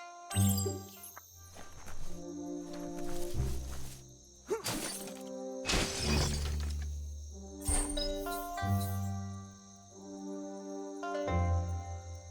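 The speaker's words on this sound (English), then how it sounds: "You shouldn't worry about smashing up the box." A wooden box is smashed in the video game Biomutant, with several loud cracking, shattering impacts spread across the scene and a sustained musical score playing throughout.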